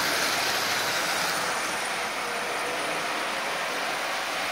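A Marx 490 toy train engine fitted with a micro motor runs continuously, a steady loud whirring rush with faint rattling of the track, no voices.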